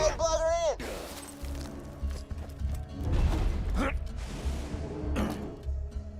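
Gearbox being plugged in within the Borderlands 2 video game: mechanical clunks, creaks and ratcheting clatter, with a brief tonal chirp at the start and a few sharp hits, under ongoing game sound.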